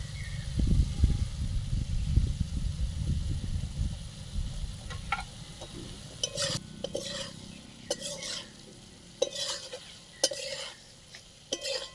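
Homemade ghee hits egg halwa in a pan, a loud bubbling sizzle at first that settles, followed by scraping stirs and clinks of a utensil against the pan.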